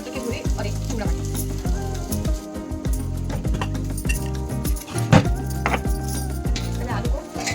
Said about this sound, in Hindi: पहले आलू को हल्का फ्राई कर लें।